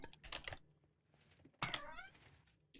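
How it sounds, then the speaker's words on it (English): A house cat gives a couple of short, distinct meows in the background, one near the start and a clearer drawn-out one halfway, amid soft computer keyboard typing and clicks in a quiet room. "If you can hear a cat in the background,"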